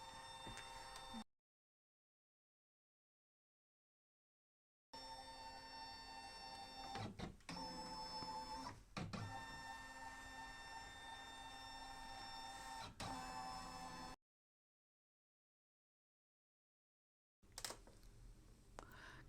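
A desktop scanner scanning an embroidered pillowcase, a steady mechanical whir with clicks and motor tones running in two long stretches split by silence.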